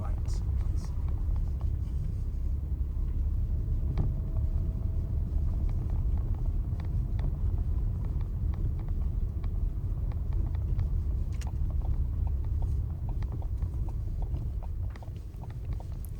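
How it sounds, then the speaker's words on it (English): A learner's car labouring up a very steep road section during a mock driving test, its engine a low steady rumble throughout with faint clicks and interior noises on top. "This is a very steep section here, and the car's struggling a little bit."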